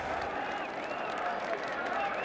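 A crowd in Honkai Star Rail fills the space with a dense, steady wash of applause and cheering, moderately loud and continuous throughout, with speech mixed in.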